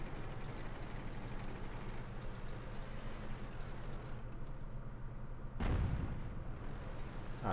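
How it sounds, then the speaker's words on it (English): An artillery shot in the World of Tanks game, heard as one loud, deep booming blast midway through, set against a steady low engine rumble from a T-70 light tank. "Artillery fires a shot, anticipating where I was going to move."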